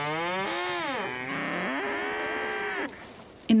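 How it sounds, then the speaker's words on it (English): Cows and a calf moo on the steppe, long drawn-out lowing calls close by, one after another, ending with a brief clatter. "In the morning, I help my grandma take care of the cows."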